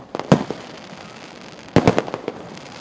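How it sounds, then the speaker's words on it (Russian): Celebratory fireworks at the Derbent festival pop in two sharp clustered bursts of crackling bangs, separated by about a second and a half of lower rumble. "Закончились торжества в Дербенте праздничным фейерверком."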